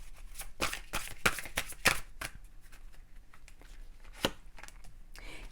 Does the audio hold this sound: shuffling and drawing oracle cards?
yes